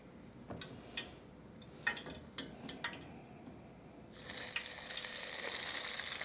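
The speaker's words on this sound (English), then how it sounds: "Now fry, baby, fry." Oysters frying in hot oil at about 350 degrees, a steady close sizzle that jumps to a loud, dense crackle partway through, with scattered pops and drips before it.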